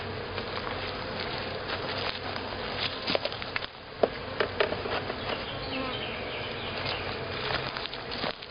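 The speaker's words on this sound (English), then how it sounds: "Just have a very few bees in the bottom of this box, so I'm going to shake it into the hive, hopefully." A swarm of honey bees shaken from a box into a hive, a dense continuous buzz throughout with a few soft knocks and taps from handling the box.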